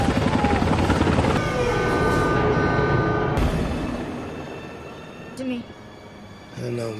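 A helicopter flies in a mafia action film, a loud steady rotor and engine roar that fades away over several seconds before other noises come in.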